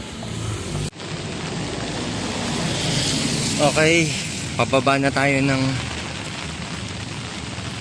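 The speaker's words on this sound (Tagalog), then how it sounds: "Bigla namang lumakas na yung ulan." Steady rain hisses down heavily in Baguio City, Philippines, while a person speaks briefly in the middle.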